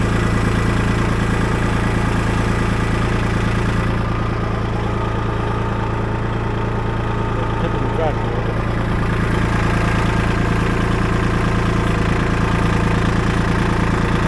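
Tractor engine running while carrying a heavy log on the front, counterweight on the back; a loud, steady close-up chugging drone holds for the whole stretch with little change.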